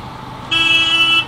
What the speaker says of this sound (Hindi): यहाँ भी ट्रैफिक लगा हुआ है।